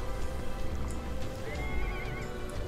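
Fire horse mount in the video game ArcheAge neighs and whinnies amid clip-clopping hooves and ambient game sounds, the whinny rising clearly partway through with no talking over it.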